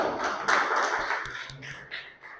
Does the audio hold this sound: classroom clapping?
yes